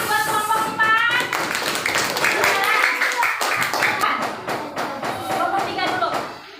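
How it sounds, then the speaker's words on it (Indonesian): A classroom group claps for group 4 during a teaching practice session, a few loose uneven claps and taps under a speaking voice. "Tepuk tangan buat kelompok 4."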